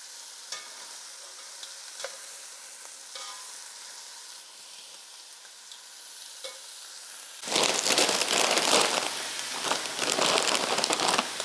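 Meat browns in a pot for pozole: a quiet stretch with scattered clicks and stirring, then a loud, steady hiss of sizzling that fills the last few seconds, with no talking.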